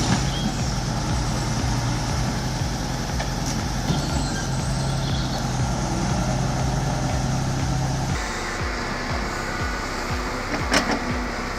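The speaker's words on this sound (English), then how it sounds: "the MB Track 1100 tractor is pulling that massive beach log through the mud" An MB Track 1100 tractor drags a massive beech log through mud in the woods, its diesel engine droning steadily and loudly throughout, with a heavy rumbling note that shifts lower partway through as the load pulls.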